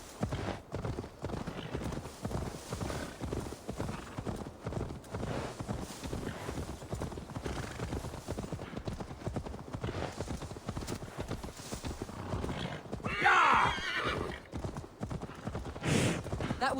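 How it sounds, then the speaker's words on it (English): Horse hooves clip-clop steadily through the Assassin's Creed Valhalla video game as the horse is led along, with a brief neigh or whinny near the end and some game voices in the background. "Now to deliver Magni his horse."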